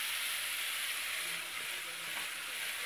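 Cauliflower pieces sizzle and fry steadily in a hot pan of oil while a Bengali fish curry is being made, a dense, continuous crackle close up with no talking.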